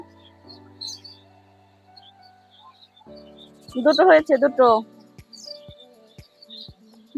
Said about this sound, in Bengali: পাখির কিচিরমিচির ডাক